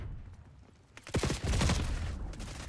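Gunfire in the Black Ops 6 video game: a quiet lead-in breaks into a loud, dense burst of overlapping shots and rapid automatic fire that keeps going steadily to the end.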